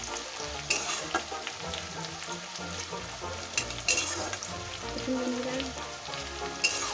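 Onions frying in oil seasoned with salt and turmeric, a close, dense crackling sizzle with irregular stirring scrapes and sharp utensil taps against the pan.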